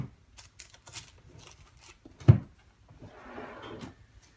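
A drawer in a scrapbooking storage unit bumps once with a sharp wooden knock midway, followed by a soft sliding rustle. Lighter handling clicks come before it in a quiet room.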